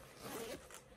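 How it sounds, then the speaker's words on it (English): A zipper slides shut on a first aid medical kit bag, one quick rasping pull that rises and then tapers off, close up and with no talking. "zip it up"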